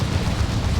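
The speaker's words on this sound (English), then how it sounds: "Plasma Cannon getting some good shots here" Heavy plasma cannon fire from a Warhammer 40k Dawn of War 2 battle booms as a dense, continuous low rumble of blasts and explosions, loud and close with no voices.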